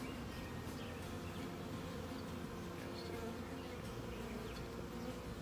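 Honeybees hum steadily around an open hive, a dense, continuous buzz close by, with no talking.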